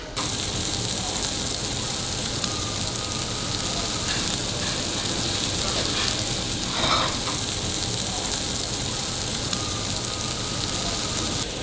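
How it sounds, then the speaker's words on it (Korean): King oyster mushrooms and bracken grill on a Korean BBQ grill at a restaurant, giving a steady, close sizzle with a dense crackling hiss that runs unbroken throughout, with no talking. "그 다음 새송이버섯하고 고사리가 따로 있어가지고 요것도 같이 구워주고 계십니다"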